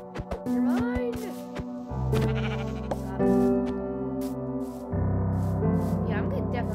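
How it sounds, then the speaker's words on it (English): Sheep bleating in the video game Minecraft, several tonal wavering bleats in a row, clear and fairly close, with a player's voice talking between them. "Sheep. Come here, sheep."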